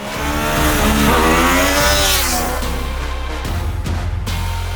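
A 2024 Triumph Daytona 660 motorcycle with an inline-triple engine revs hard and close, its pitch rising and then falling away into a lower, steady idle-like drone.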